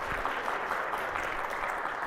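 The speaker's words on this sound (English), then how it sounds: "So please give him a warm round of applause." A conference audience claps to welcome a speaker, the applause steady and fairly distant, filling the short moment without a break.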